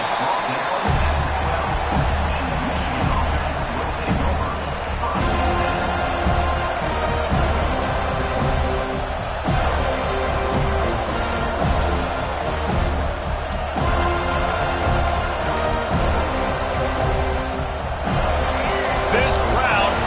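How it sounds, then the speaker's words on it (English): A packed football stadium crowd roars continuously at a Florida State Seminoles versus Michigan game, a dense, steady wall of cheering with a game announcer talking over it. "This crowd bringing an ear-splitting welcome to their visitors"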